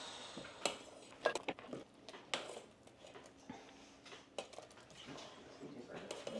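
Drained pasta is mixed with sauce in a pot, producing scattered clinks and knocks of a utensil against metal plus soft squishy stirring, fairly quiet and close.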